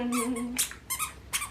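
Squeaky baby shoes pressed on the soles, giving three or four short, bright, high-pitched squeaks in a close, quiet room, the first one longer and wavering.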